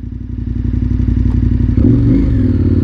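A KTM 1290 Super Adventure R motorcycle engine rumbles loudly and close while being ridden, with a pulsing throb that thickens and rises partway through, plus some clatter.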